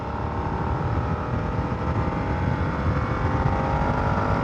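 A Harley-Davidson Nightster motorcycle cruises down the road, its engine a steady, loud low rumble close by with no talking.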